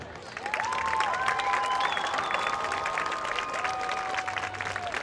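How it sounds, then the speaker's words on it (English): Crowd in the stands at a varsity high school football game applauding the seniors, a steady wash of clapping with some cheering, while sustained whistle-like tones drift above it. "Please give the seniors one more round of applause"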